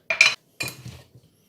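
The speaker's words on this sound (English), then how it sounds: "I'm going to pop that jar into a pan of boiling water for a few minutes and sterilise it." A glass jar is put into a pan of boiling water to sterilise it, clinking against the metal pan, two bright knocks followed by a softer rattling settle.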